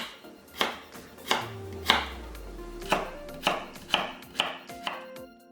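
A kitchen knife cuts a radish into thin matchstick strips, making about eleven crisp, sharp chops against a cutting board at an uneven, unhurried pace, close and clear with no talking.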